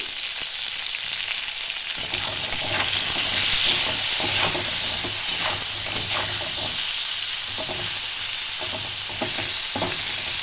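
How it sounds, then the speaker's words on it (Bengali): Fish frying in a pan with a little salt and turmeric, a steady close sizzle with crackling pops and stirring scrapes running through the whole stretch, no talking over it. "আমি 1 মিনিট ভেজে নেবো এটা।"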